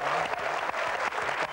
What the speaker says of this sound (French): je vous demande d'applaudir chaleureusement, Alain Chabat.